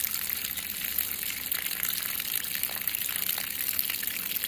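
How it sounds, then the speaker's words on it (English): Water sluicing steadily across material in a tilted pan during a slow rinse, a continuous broadband gush that stays even and close for the whole stretch with no talk. "Slow tilted rinse."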